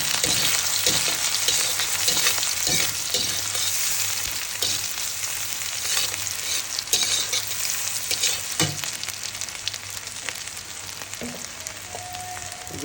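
Onions frying in a pan, a sustained close sizzle with irregular scrapes and knocks as they are stirred, lasting steadily throughout.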